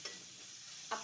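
Spices with red chilli powder and green chilli sizzle and are stirred in a pan while cooking for corn chaat, a faint, soft frying hiss with a couple of brief scraping stirs.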